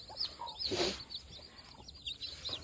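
Hens clucking and chirping in short, scattered bursts, with a fuller burst of calls near the start against a quiet outdoor background.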